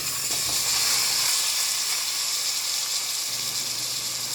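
Meat sizzles in hot olive oil in a pan at medium-high heat, a loud continuous hiss of frying with no break.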